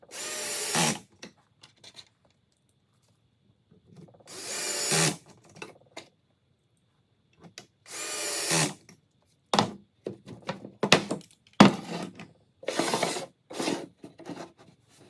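Power drill at slow speed driving into a wooden drawer box, several separate short whirring bursts with quiet gaps between them, close and clear.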